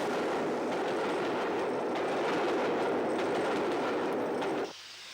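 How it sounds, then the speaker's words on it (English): A Stanier Pacific steam locomotive, City of Carlisle, hauls a local southbound service as it slows for a station stop. There is a loud, close, continuous rolling rumble with rhythmic clatter that drops away abruptly near the end. "City of Carlisle slows for its stop at Tibet with another local southbound service."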